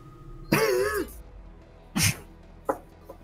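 A person coughs loudly up close, one long harsh throaty cough followed by two shorter coughs with pauses between.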